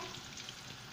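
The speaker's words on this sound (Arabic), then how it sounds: "ديجا انا كنت جهزت الزيت وحطيته يسخن، بعد ما سخن نحط فيه الحوت تاعي" Sardines frying in hot oil in a pan, a dense, steady crackling sizzle that stays even and close throughout with no talking.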